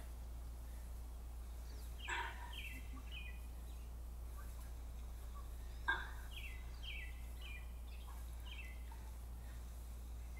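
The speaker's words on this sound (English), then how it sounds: "Which, it's great to have all the bird sounds," Neighborhood birds call outdoors at a distance during a home workout, two short bursts of chirping with repeated descending notes over a steady low hum.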